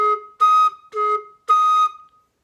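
A flute head joint played alone at a higher pitch gives four short, clear whistling tones in an uneven rhythm, each held briefly with a breathy edge, close and fairly loud.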